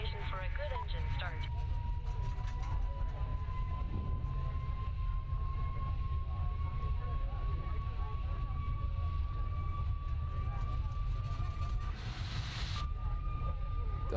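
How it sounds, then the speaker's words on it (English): Number one engine of an Airbus A320 starts in a flight simulator game, a thin whine climbing slowly over a constant low rumble before a short burst of noise near the end. "Okay, we'll go ahead and start engine number 1 now."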